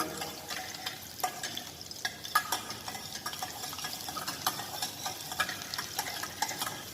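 Garlic cooking in a pan while a utensil stirs it, a steady close sizzle punctuated by frequent scraping and clinking strokes against the metal.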